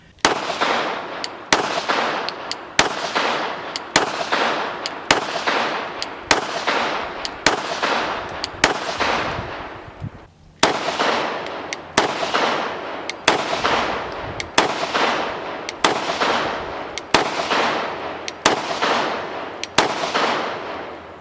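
A Glock Model 25 pistol chambered in .380 ACP fires about sixteen sharp, loud shots at a steady pace, with one short pause partway through and no talking.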